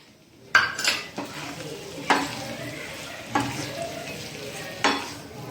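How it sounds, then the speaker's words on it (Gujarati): Shallow-fried paneer being stirred into masala in a pan for paneer chili, with a spoon scraping and clinking against the pan at irregular intervals over a faint, steady sizzle. "આ રીતે પનીરની ઉપર મસાલા બરાબર કોટ થઈ જાય એ રીતે આપણે એને હલાવવાનું છે."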